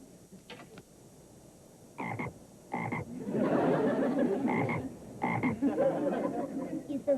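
A pet frog named Jumping Jack Flash, kept on a couch, gives a series of short croaks, several separate bursts alongside longer rough, grating calls, close and fairly loud with no talking.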